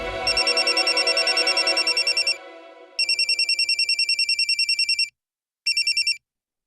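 A mobile phone rings with a repeating electronic trill in three bursts separated by short gaps, loud and close in an indoor family scene, the last burst cut short.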